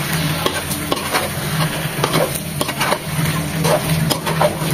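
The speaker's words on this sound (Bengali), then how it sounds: "আর চিকেনের সাথে আলুটাও কষিয়ে নেব।" Chicken and fried potatoes stir-cooked with spices in a pan for chicken biryani, a steady close sizzle with repeated scraping stirs throughout, no voices.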